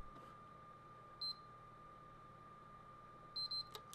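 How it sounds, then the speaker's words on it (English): A PlayStation 3 console emits a short single beep, then a quick double beep a couple of seconds later while its power button is held down, faint and high-pitched over a quiet room hiss. "you should hear a beep, followed by a double beep"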